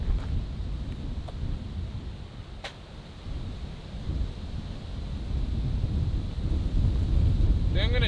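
A headwind blows across an open golf course, a rough low rumbling buffet against the microphone that rises and falls and grows stronger toward the end.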